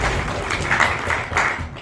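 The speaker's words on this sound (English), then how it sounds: "Let's have a quick round of applause for A1 and" Audience applause at a debating grand final, a steady wash of clapping filling the short moment at moderate loudness with no speech over it.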